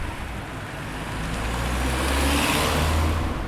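Steady low engine rumble of a car driving along a road, a continuous close interior-style drone that swells slightly louder midway and holds, with no talking.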